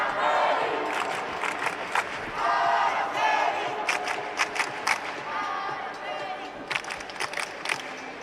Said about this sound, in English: big Spanish contingent in the crowd here in Cairo. Calling out Araceli Navarro